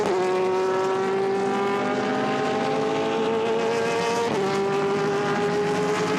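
GT race cars, a Mercedes among them, scream past at Misano during a Blancpain GT Sports Club qualifying race. The loud, sustained engine whine dips briefly in pitch partway through, with no voices.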